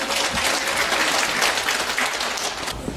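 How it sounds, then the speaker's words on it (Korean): An audience at a Korean talk concert bursts into dense, sustained applause for the panel of speakers, many hands clapping together at an even level before it thins slightly near the end. "다시 한번 감사의 박수 부탁드립니다"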